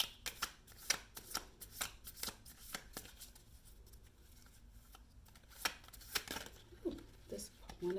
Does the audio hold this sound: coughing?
no